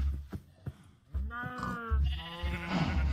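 Cows mooing in Minecraft, a few close, loud drawn-out calls in quick succession with short pauses between them.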